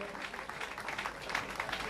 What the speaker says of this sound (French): Alors on peut les applaudir, allez s'il vous plaît